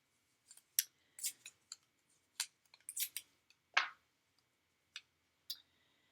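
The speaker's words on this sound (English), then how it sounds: "I just thought, let's die cut this all at once here." A die-cutting machine cuts paper for a Christmas gift box, giving a series of sharp, irregular crunches and clicks separated by near silence, fairly quiet and close.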